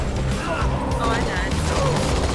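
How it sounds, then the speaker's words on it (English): A Warthog vehicle blows up in Halo: The Master Chief Collection, a loud blast and crash amid dense game gunfire and mechanical clatter, with voices talking over it. "your Warthog just blew up"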